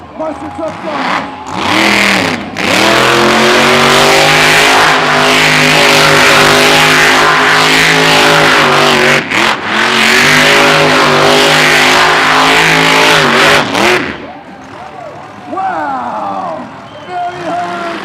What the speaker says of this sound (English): Sound of that engine. Listen to the power.